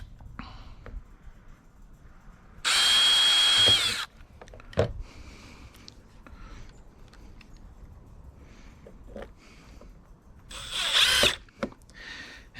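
A power drill pre-drills holes in wooden fence boards for a garden fence in two loud, close bursts of a few seconds each, with knocks, handling noise and footsteps between them.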